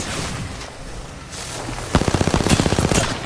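Video game gunfire: a quiet stretch of ambient noise gives way to a rapid burst of repeated shots, loud and evenly spaced, ending in a dense volley.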